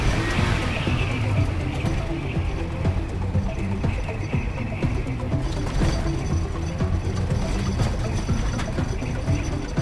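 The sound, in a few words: long logging truck engine climbing a hill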